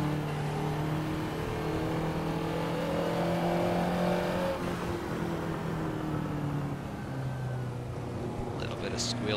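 Ferrari 288 GTO engine revving toward 6,000 rpm in the Assetto Corsa racing game, a steady sustained drone with rising harmonic tones that hold for several seconds under a voice talking throughout.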